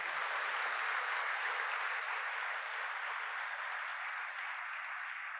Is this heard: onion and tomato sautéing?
no